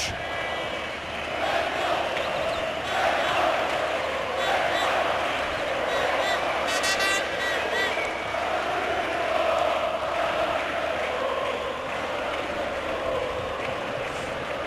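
Fenerbahçe supporters at a 2003–2004 championship celebration, a dense crowd roaring and chanting continuously, loud and washed together, with occasional shrill whistles cutting through around the middle.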